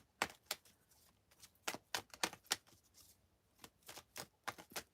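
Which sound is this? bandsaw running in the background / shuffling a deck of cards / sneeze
shuffling a deck of cards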